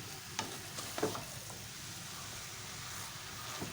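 A spoon scrapes and stirs sugar cooking down in a pan, soft steady sizzling with a few clinking knocks early on, fairly quiet and close.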